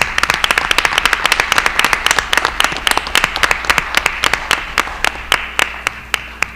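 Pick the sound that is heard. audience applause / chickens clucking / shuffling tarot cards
audience applause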